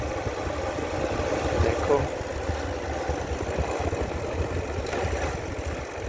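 A motorcycle engine idles and rumbles steadily at close range as it pulls into the parking area of Gurdwara Sadhana Sahib near Sangrur, with someone talking over it.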